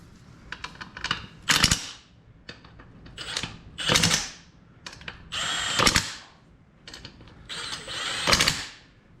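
Power tool bursts tighten wheel bolts on a John Deere 425, in five short whirring runs spaced about two seconds apart with quiet clicking between them, close and fairly loud.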